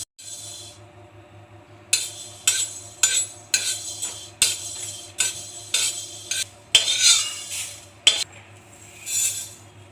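Fennel seeds dry-roast in a pan over a high flame, stirred constantly so a utensil scrapes and clinks against the metal in a quick, regular series of close strokes with brief pauses between them.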